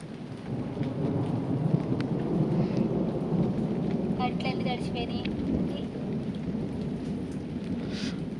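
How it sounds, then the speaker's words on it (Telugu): Heavy rain and wind pour steadily throughout, a dense hiss with low rumbling thunder rolling underneath, loud and continuous. "మొన్న అంత వాన అయితే లేదు కానీ ఈరోజు అయితే దుమ్ము రేపేసింది"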